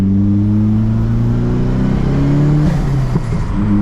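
Heavily modified Nissan S15 running a little rich, its engine droning loud and steady under acceleration in close-up, with a sharp exhaust pop cracking out near the end.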